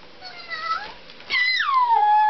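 A kitten, a new Christmas pet, gives a couple of high drawn-out meows, the first softer and the second louder and closer, sliding down in pitch near the microphone.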